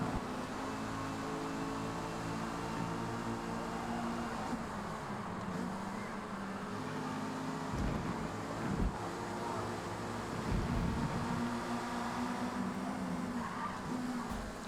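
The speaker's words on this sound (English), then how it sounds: "It's a little bit quiet with the cars revving." Mazda MX-5 race cars in a racing video game, engines droning steadily with a low, constant hum and occasional louder rumbles and tire noise, under faint background sound.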